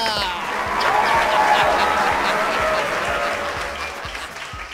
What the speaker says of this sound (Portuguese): Uma forte salva de palmas aí em casa!